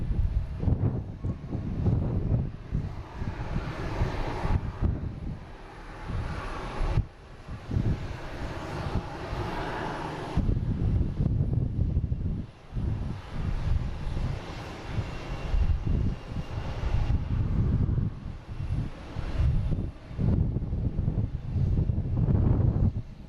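A fixed-wing airliner departs Boston Logan for Tampa, its engines a steady, loud roar through the whole stretch, with wind buffeting the microphone and no voices.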